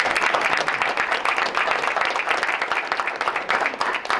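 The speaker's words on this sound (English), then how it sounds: "let's give Tom and John a round of applause." Audience applause at a school board meeting, a steady, dense wash of many hands clapping that carries on without a break for about four seconds, filling the room.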